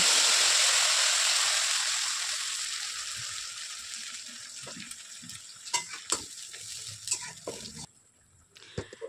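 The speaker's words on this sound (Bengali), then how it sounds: "গরম মশলা ফোড়ন দিয়ে আমি প্রথমে টমেটো পেস্টটা একটু কষিয়ে নেব।" Tomato paste fries and sizzles loudly in hot oil with garam masala, a steady bright hiss that slowly quiets, with a few clinks and scrapes of stirring near the end.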